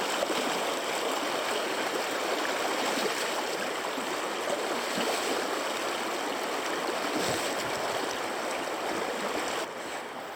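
A river in the Ardennes rushes steadily over rocks, a dense, continuous close-up wash of flowing water with no voices, easing slightly at the very end.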